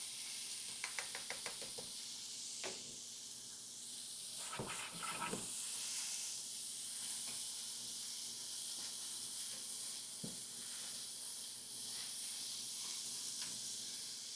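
Chopped onion sizzles in hot oil as aromatics for fried rice, a steady soft hiss with a few brief crackles and spatters, fairly quiet and close, with no talking.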